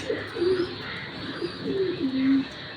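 Racing pigeons give several soft, throaty coos in short bursts, close by and moderately loud over a faint background murmur.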